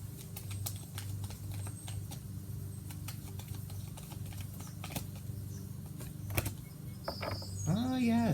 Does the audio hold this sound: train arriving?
no